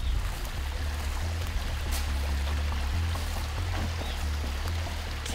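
A mountain stream in a deep forest in Gangwon Province flows steadily, a continuous broad wash of water with a low rumbling undertone and no voices.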